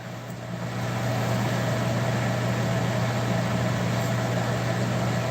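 A car engine with a modified muffler idles steadily in a shop at night, a low, even rumble holding throughout, close and moderately loud with no talking.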